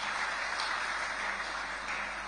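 A short round of applause from a council meeting audience honouring a sponsor: a continuous, evenly textured burst of clapping at moderate volume, without speech.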